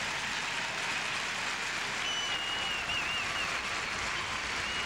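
A stadium audience at a figure skating Grand Prix Final applauds, producing a dense, steady, even wash of clapping that holds unbroken throughout and sounds slightly distant.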